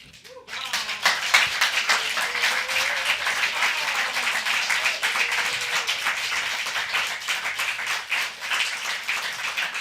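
Audience applause following a reading at a poetry festival in Southern California, a dense, loud wash of clapping that swells quickly and holds steady throughout.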